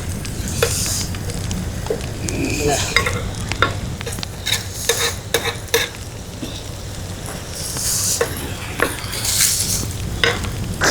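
Prawns fry in hot oil in a village kitchen for a Mandya-style spicy fry, with a steady sizzle and repeated scraping clinks of a spoon stirring the pan, close and without talk.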